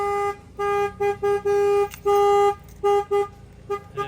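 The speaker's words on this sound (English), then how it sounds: "Your alarm is sounding on your vehicle." A Ram ProMaster truck's alarm sounds in repeated electronic tones, a steady pulsing beep pattern of short and longer bursts, fairly clear and alone with no talking.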